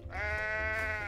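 Single drawn-out, wavering bleat from a goat in the video game Goat Simulator, up close and steady for about a second over faint low-frequency game ambience.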